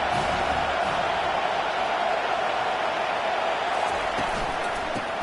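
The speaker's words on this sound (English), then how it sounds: "Decibels rising as the crowd gets behind this defense on third down." Stadium crowd roaring on third down during a football game against Ohio State, a loud, constant wash of cheering noise holding steady throughout.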